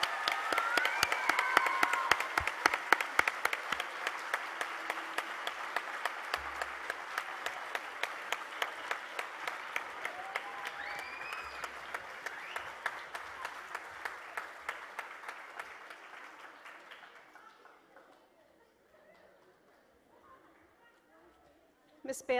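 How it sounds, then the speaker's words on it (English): A crowd at a primary school graduation ceremony gives sustained applause for the Grade 1 class, a broad, even clatter of many hands that gradually fades out over about twenty seconds, with some voices beneath it. "Please give a big round of applause for Grade 1"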